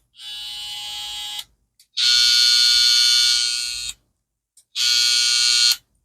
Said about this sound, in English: my X trimmer did get loud, but I believe it's the plastic in the cam follower